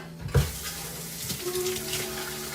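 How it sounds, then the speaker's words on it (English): Kitchen tap water rinsing a dish: a sharp clunk, then a soft, steady stream of running water that stays fairly faint throughout. "Give it a quick rinse."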